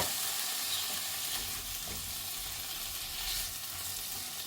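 Butter with onion, ginger, garlic and tomato frying in a pan, a steady close sizzle with faint hiss that holds even throughout.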